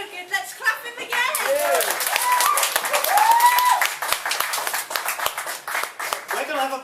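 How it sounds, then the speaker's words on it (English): Live audience at an open-mic comedy night applauding a comedian, close and lively rapid clapping that swells and then thins into scattered claps, with voices and whoops mixed in. "Let's clap him again"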